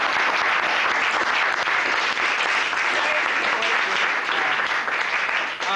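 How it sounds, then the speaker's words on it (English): An audience gives panelists a steady, loud round of applause at an improv studio event, dense clapping sustained throughout without a break. "You give them a round of applause."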